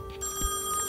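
A telephone rings inside a dark house in the horror game Song of Horror, a steady electronic tone with a low rumble under it, heard alone without talk over it.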